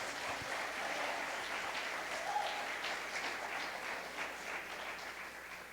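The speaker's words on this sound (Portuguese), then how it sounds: "Você pode aplaudir Jesus por isso?" Church congregation applauding during a Portuguese-language service, a soft, distant and steady patter of clapping with a faint tonal murmur in the room, sustained at low level throughout.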